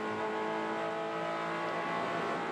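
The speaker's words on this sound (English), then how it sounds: "Full throttle in that little 4-cylinder boxer engine, screaming." A Toyota 86 race car's small 4-cylinder boxer engine screams at full throttle in 4th gear during a TR 86 race at Pukekohe, with a loud, steady, high-pitched drone throughout.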